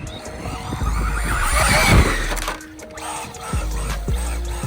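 An Arrma Big Rock 223s RC truck tears across the ground in rear-wheel drive, its electric motor whining and rising to a peak while tires scrabble and spray. Tonal motor pitches sweep up and down as it revs.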